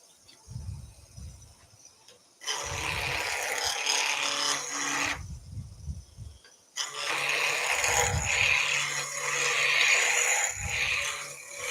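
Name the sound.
blunt skew chisel roughing wood down to a cylinder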